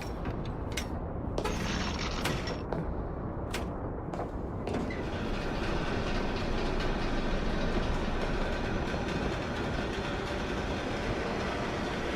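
A Moscow subway train running underground: a loud, steady rumble throughout, with sharp clicks and rattles in the first few seconds, and no voices.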